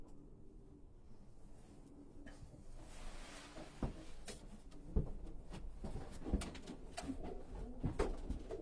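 Racing pigeons cooing in a loft, soft low coos under a steady indoor background with a few scattered bumps and knocks, moderately close and without talk.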